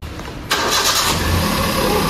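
A Hyundai Eon's engine cranks and catches on a fresh Amaron battery replacement, a short burst of starter noise, then settling into a loud, steady close-up idle with no voices.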